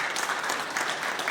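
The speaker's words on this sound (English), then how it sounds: "I think that deserves a round of applause." An audience claps steadily at a devotional gathering on devotee care in the UK, a dense even patter of many hands lasting a second or so, fairly distant and soft, with no voices over it.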